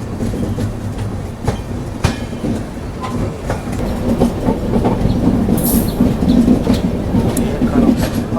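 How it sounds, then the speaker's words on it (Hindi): The Pune Kanyakumari Express rolls into Katpadi Junction on a curve, its wheels clattering in irregular clicks over joints under a steady rumble that builds louder, with a brief high squeal from the wheels partway through. "भाई अब अपनी ट्रेन काटपाड़ी जंक्शन एंटर करी और कर्व देखो भाई ट्रेन का।"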